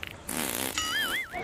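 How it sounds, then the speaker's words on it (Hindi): A fart delivered on request, a short buzzy burst followed by a rising, wavering squeal, loud and close with no talk over it. "आप हमारे दर्शकों को एक बार पाद कर दिखा दीजिए।"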